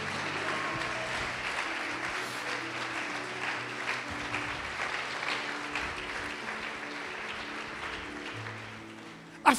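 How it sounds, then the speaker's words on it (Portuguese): Congregation in a church applauding at a moderate level, a continuous bed of clapping with low sustained tones beneath, tapering slightly before a sharp knock at the very end. "Pode aplaudir o Senhor e glorificá-lo."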